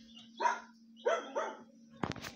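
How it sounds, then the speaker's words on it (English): A dog barks three times in quick succession, clear but somewhat distant, followed by a brief clattering noise. "And there goes my dog barking right now outside."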